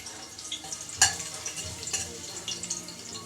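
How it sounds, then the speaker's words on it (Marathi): Garlic dropped into hot oil in a pressure cooker gives a short burst of sizzling and crackling near the start, then settles into a softer, steady fry for a few seconds. "तर याच्यामध्ये सगळ्यात आधी मी आता लसूण टाकून घेते।"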